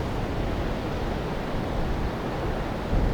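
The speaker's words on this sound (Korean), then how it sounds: "맑게 울리는 계곡 물소리에 귀를 기울였습니다." Valley stream water rushing over rocks, a steady, dense broadband wash that stays even and continuous throughout with no voices.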